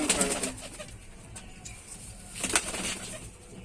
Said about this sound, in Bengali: এখন এই দেখুন পায়রাটা